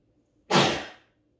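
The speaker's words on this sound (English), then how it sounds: "uh-oh, I gotta sneeze, it's gonna be loud" A single loud, close sneeze that bursts out suddenly and fades over about half a second, alone against a quiet room.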